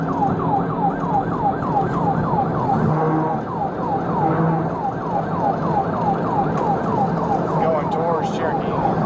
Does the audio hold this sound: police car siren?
yes